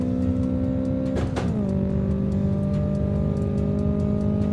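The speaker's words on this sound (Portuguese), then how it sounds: "olha nós acelerando o bicho do drag aí" A turbocharged Toyota Trueno AE86 in a drag race video game holds a steady, droning engine tone, with a quick shift-like dip and change in pitch early on, then a constant hum, no voices.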